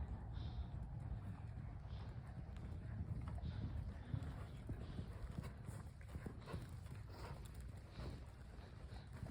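Horse cantering in an arena, rhythmic hoofbeats thudding over steady wind and microphone rumble, fairly close and continuous.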